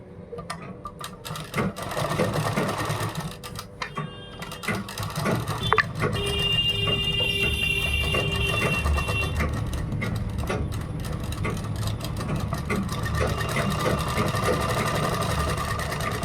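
A sewing machine runs a continuous whirring, rattling stitch along a kurta made from a dupatta, loud and near, starting a little unevenly and then holding a steady mechanical hum throughout.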